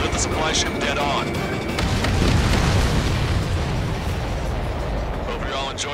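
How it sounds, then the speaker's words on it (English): A missile explosion strikes a supply ship in a video game, a loud broad rumbling blast that swells and lingers as a sustained roar, with a voice talking over the start. "The missile hit the supply ship dead on."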